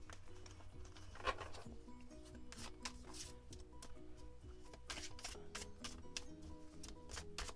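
Lo Scarabeo tarot cards, a Traditional Manga Tarot deck, are shuffled by hand in a quiet room, giving a run of soft, rapid papery riffles and taps that come close and fairly faint.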